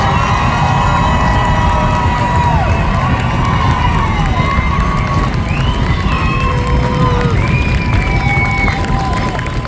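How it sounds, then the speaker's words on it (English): A large outdoor crowd of families at an Army Basic Combat Training family day applauds and cheers new soldiers, loud and continuous, with whoops, shouts and whistles rising over the roar. "Let's give another round of applause for the Army's newest United States Army soldier."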